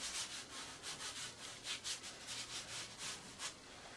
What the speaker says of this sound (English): I'll go in with my finger and smooth it out.